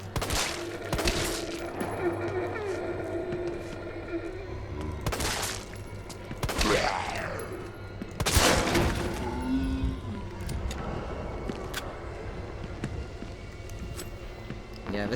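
Gunshots ring out from a handgun in Resident Evil 3 Remake, sharp and loud, in separate bursts spread across the scene, with game noise and some talk between them.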